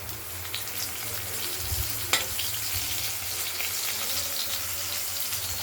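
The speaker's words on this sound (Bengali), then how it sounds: "আলুগুলো ভাজা হোক, সব ভাজা আছে" Potatoes fry in a pan with a dense, steady sizzle that holds close and fairly loud throughout, marked by a single sharp clink partway through and no talk.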